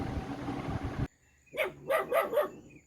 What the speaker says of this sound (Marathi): मला पण भुंकतोय